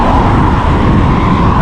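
Road traffic on a rural road near Culross in Fife, Scotland, a loud continuous broadband rush of vehicles passing close by, with no speech.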